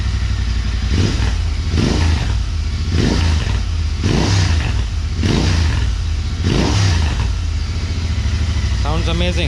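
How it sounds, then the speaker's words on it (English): A Royal Enfield Interceptor GT 650 fitted with a Hyper Flow air filter, its parallel-twin engine revved repeatedly in loud, evenly spaced pulses over a steady idle, close up. "here's how the machine sounds now with better air going into the"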